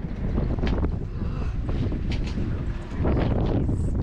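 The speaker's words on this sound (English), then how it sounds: "So windy today" Strong wind buffets the microphone in a steady, roaring rush, growing slightly louder toward the end, with no talking.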